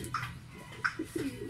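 Racing pigeons in a loft, likely a blue bar among them, give a few soft low coos, close and fairly faint over a quiet room.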